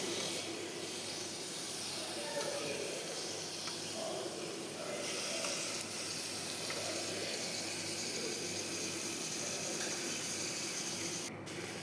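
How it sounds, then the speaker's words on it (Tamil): Potato pieces sautéing in hot oil in a pan, a steady soft sizzle and hiss holding evenly throughout at low level. "நம்ம உருளைக்கிழங்கை போட்டு கொஞ்சம் நேரம் எண்ணெயிலே அப்படியே வதக்கி விடலாம்"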